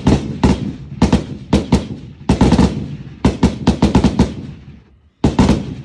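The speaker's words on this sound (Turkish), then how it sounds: "Bir atış var." Sauer 200 rifle fired outdoors, a rapid series of sharp, loud gunshot cracks in quick bursts with brief gaps, each blast trailing off into echo, then a short silence before a final burst.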